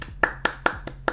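Five sharp hand claps in a steady rhythm, close and crisp, with quiet gaps between them.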